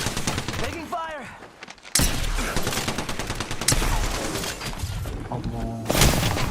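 Gunfire rattles in the Free Fire video game, with dense rapid shots and bursts layered over game sounds, while people talk throughout.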